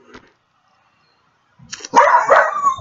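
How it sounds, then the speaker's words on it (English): After near silence, dogs erupt into a burst of close, loud barking, with sharp overlapping barks and yips continuing to the end. "Now I got dogs freaking out."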